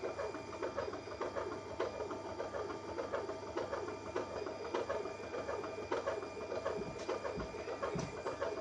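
A Naelia juice extractor motor runs alone in a steady, continuous whir with a faint mechanical rattle, holding an even level throughout.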